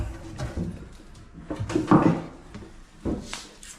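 A wooden kitchen cabinet drawer on a drawer guide in a rowhouse under construction slides and knocks a few times, with a louder thump near the middle and another soft bump toward the end, fairly close.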